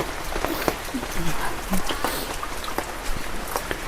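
Rain falls steadily outdoors as a constant close hiss with scattered drop taps, while voices talk over it throughout.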